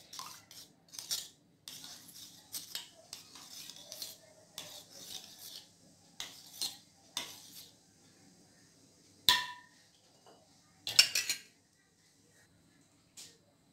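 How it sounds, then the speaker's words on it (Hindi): A spoon scrapes and clinks against a bowl while mint raita ingredients are stirred into yogurt, in short, irregular bursts of scraping and tapping separated by pauses. "अब इन सभी चीज़ों को अच्छे से मिक्स कर ले दही के साथ।"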